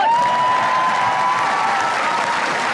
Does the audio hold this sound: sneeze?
no